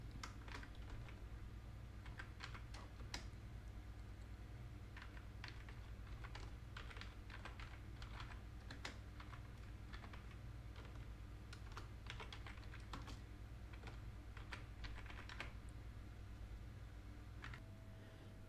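Rapid, light clicking of keys on a computer keyboard, typed in quick bursts with short pauses, faint and close over a soft steady hum, no voices.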